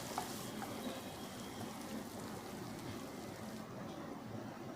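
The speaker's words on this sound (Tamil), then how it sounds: "இப்போது இதில் நறுக்கி வச்ச பெரிய வெங்காயம் 2, அதையும் நல்லா கிளறி விடுங்க" Two chopped large onions fry and get stirred in a pan while cooking a Hyderabadi paneer biryani, giving a faint, steady sizzle with soft scraping, heard close and without talking.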